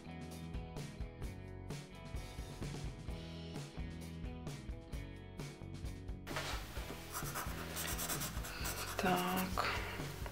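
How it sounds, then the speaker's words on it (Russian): Pencil sketching in a sketchbook, with soft graphite strokes rubbing and scratching across paper beneath steady, fairly loud background music throughout. "И после этого тоже продолжаю отрисовывать карандашиком."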